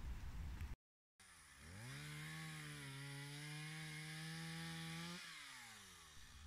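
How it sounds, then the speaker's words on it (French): A petrol chainsaw coppices willow at a pond, its engine revving up after a brief gap and holding a loud, steady cutting whine for several seconds before easing off, close and alone. "Le recépage de la Solaie située dans l'étang a été réalisé à l'aide d'outils thermiques tels que des tronçonneuses"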